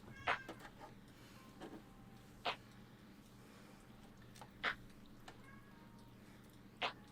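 A cat whining for a snack, a few brief high meows spaced a couple of seconds apart, faint over a steady low background hum with no talk.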